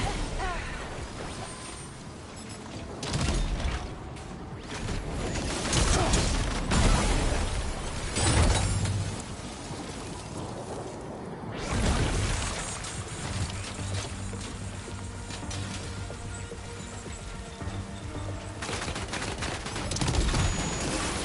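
Combat in Death Stranding 2: On the Beach, with bursts of gunfire and mechanical clatter rising and falling over about twenty seconds, mixed with ambient rumble and scattered impacts at moderate distance.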